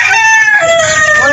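A chicken on a home farm gives a short, loud, strained call with sustained tones that falls in pitch, close by and heard alone without talk.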